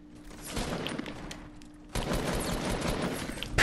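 Rapid gunfire in Fortnite comes as dense, crackling bursts of shots that fade and then resume abruptly at higher volume, played without any talking.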